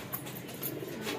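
Pigeons coo softly during a training release, a faint low cooing set against a noisy outdoor background over about a second.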